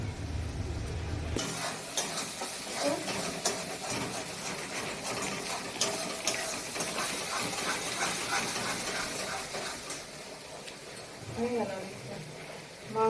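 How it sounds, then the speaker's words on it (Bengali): Onion paste frying in hot oil for a meat curry, a dense steady sizzle with stirring scrapes throughout, starting abruptly after a quieter opening moment; speech is faint or absent. "পেঁয়াজ পেস্ট করে পেঁয়াজ তেলের উপরে দিয়েও দিয়েছি"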